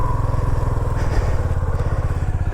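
A Suzuki V-Strom 250SX motorcycle left standing for two months runs after starting, its engine chugging close and loud in a rapid even pulse, briefly shifting pitch midway before settling back.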